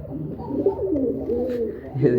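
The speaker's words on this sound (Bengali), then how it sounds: "ডাকতেছে কবুতর" Pigeons coo in low, throaty rolling calls, continuous and close on a pigeon farm, with a person talking faintly in the background.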